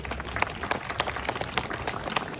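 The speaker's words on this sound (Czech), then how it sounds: "takže potlesk pro Ludvíka Belgradyho" Applause from a crowd at an outdoor town event in Jimramov featuring a carriage: steady, dense clapping from many hands that continues evenly throughout at moderate volume.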